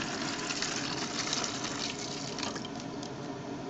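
Water pours steadily into a hookah base, a continuous close gush that splashes and fills without pause, loud and alone.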